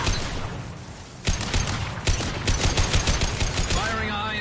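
Rapid gunfire from Mass Effect Legendary Edition rattles in dense, loud bursts, with sharp shots cutting through continuous combat noise.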